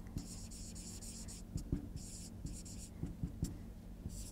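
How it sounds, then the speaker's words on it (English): Pen writing on paper while working out a physics problem, a run of quick close scratchy strokes in short bursts with brief pauses, faint and alone. "I can simply write"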